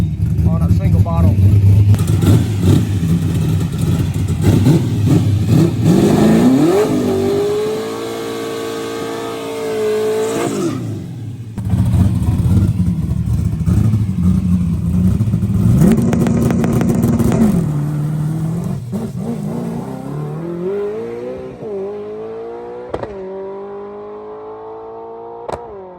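A nitrous drag race car on a midday shakedown test pass on a greasy track, its engine roaring loud and close with rising revs, then easing and revving again as the car pulls away, with voices talking over parts of it.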